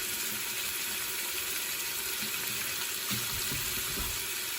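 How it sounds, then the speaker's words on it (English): Water running steadily from a kitchen faucet into the sink while hands are washed during cooking, a continuous broadband hiss and splash at close range with slight changes in flow and no talking. "One of the reasons I like cooking next to the sink is because I constantly wash my hands"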